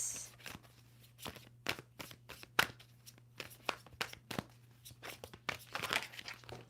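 Tarot cards shuffled by hand give a series of quick, dry riffling bursts in an irregular rhythm, close and fairly quiet over a low steady hum.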